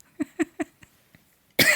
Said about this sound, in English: I'm sorry that I'm coughing here.